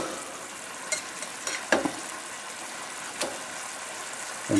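A floured salmon fillet sizzles loudly in a pan after being turned over, a steady frying hiss broken by a few soft clicks and scrapes.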